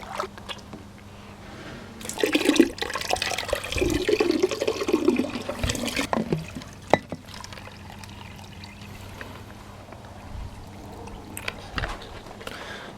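Water from a backyard paddling pool drains out in a steady pouring, gurgling rush. The sound is loudest early on, then eases to a quieter trickle that continues for the rest of the stretch.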